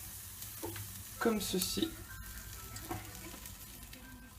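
Bacon and pasta sizzle and get stirred in a pan for carbonara, a steady crackling fry with clattering stirring bursts near the start, while someone speaks briefly over it.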